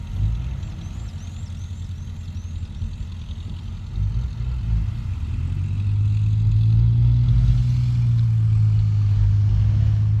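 Kobelco SK200 Mark 10 SM excavator with a Hino J05E engine digging a pond, a steady diesel rumble that builds into a louder, higher-revving drone partway through, heard at moderate distance with no talk.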